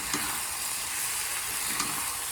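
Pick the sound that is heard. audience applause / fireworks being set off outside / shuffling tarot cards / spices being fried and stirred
spices being fried and stirred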